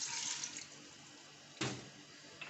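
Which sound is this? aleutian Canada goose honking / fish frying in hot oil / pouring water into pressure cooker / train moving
pouring water into pressure cooker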